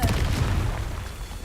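A Confringo fire spell exploding in the Hogwarts Legacy video game, heard as a heavy, loud boom at the very start that rumbles and slowly fades, with no talk over it.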